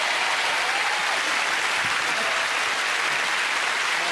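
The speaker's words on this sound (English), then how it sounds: "Give them a round of applause and all." Steady, dense applause from a studio audience at a 1994 Christmas special of the snooker game show Big Break, filling the whole stretch evenly without letting up.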